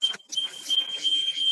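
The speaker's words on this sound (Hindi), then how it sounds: "किसी का फोन है, डिस्टरबेंस आ रहा है यार" During a Zoom meeting, a phone rings with a thin, high electronic tone that pulses repeatedly and stays fairly loud for the whole stretch, with no one talking.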